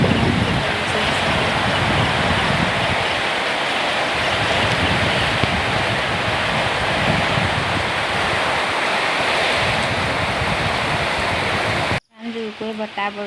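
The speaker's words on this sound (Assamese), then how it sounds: "ইমান বতাহ, এতিয়ালৈকে এৰাই নাই, বৰষুণ দিয়ে আছে।" Strong wind drives heavy rain outdoors in a steady, loud, unbroken wash of noise, then cuts off abruptly near the end, where a voice is briefly heard.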